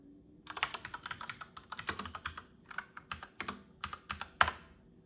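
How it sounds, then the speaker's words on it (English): Mechanical keyboard typing is played back as a close, rapid run of crisp clicky keystrokes in irregular bursts with brief pauses, and no voices are heard. "All right, mechanical keyboard sounds."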